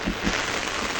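Heavy rain pouring down outdoors, a dense, even hiss of drops hitting surfaces, loud and close for the whole moment.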